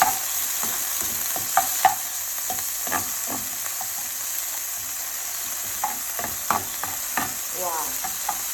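Garlic, ginger and onions sizzle softly in a pan while a utensil stirs them, with scattered scrapes and taps over a steady frying hiss, close by.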